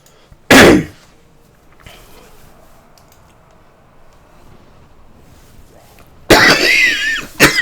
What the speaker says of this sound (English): God, this cough.